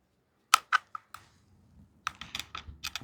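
A tool turns the chain tensioner on a cordless mini chainsaw, making a few sharp, close clicks and ticks, then a quick cluster of small clicks with a faint rumble underneath.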